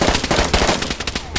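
Gunfire rattles in the multiplayer survival game DayZ on PlayStation 4 Pro during a fight in Zelenogorsk. Loud, rapid automatic bursts rattle close by in quick succession with almost no pause.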